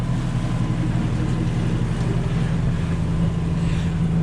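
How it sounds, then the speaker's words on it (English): Steady drone of a sailboat's engine while motor sailing with the jib out across calm water on the Albemarle Sound in a light breeze, a constant low hum with soft wind rush and no talk. "So we're motor sailing,"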